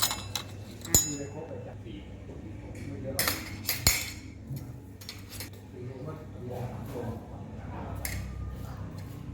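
Spoon and fork clinking against a plate while food is served, a few sharp metallic clinks standing out over a soft background, with people talking nearby.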